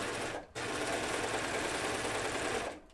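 Sewing machine stitching an overlocked or zigzag seam: a fast, steady mechanical whirr that pauses briefly near the start, then runs evenly and close before stopping.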